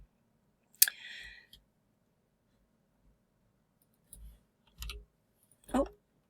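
A computer mouse clicks a few separate times with long gaps of quiet between them, small and close, with no talk.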